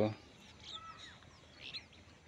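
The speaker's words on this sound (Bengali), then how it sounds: "পাখির কলতান" Birds call faintly at dawn over misty winter crop fields, a few thin chirps spaced apart above a soft, steady background hiss.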